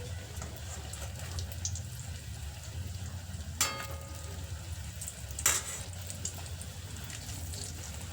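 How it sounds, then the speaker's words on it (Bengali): Oil bubbles and sizzles steadily as jackfruit chops deep-fry, with a couple of sharp clinks from a utensil partway through. "একটা একটা চপ তেলের মধ্যে দিয়ে ভেজে নেবে"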